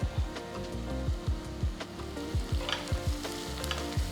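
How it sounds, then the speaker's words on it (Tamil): Onions sautéing in a pan with a pinch of asafoetida for sambar rice, a steady sizzle broken by regular low knocks and scrapes of stirring, close and alone without talk. "வெங்காயம் ஓரளவுக்கு வதங்கியிருக்கு"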